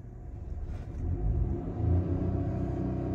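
A Proton X50 (Geely Coolray) sits on launch control with brake and accelerator both pressed, its engine rev held at a steady, throaty rumble that swells slightly mid-way, heard from inside the car.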